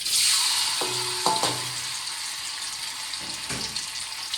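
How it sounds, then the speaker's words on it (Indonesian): Tofu frying in hot oil for a cooking dish, a steady broadband sizzle throughout with a few brief clinks and stirring knocks of a utensil in the pan, close and moderately loud, no talking. "Selanjutnya kita goreng tahunya."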